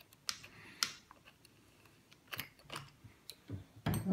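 A Schumacher wheel wrench working a wheel off a Hobao Hyper TT RC car, a few sharp close clicks and scrapes in uneven bursts separated by quiet gaps.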